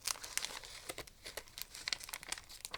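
A small crinkly paper envelope being handled close up, quick irregular crackles and rustles.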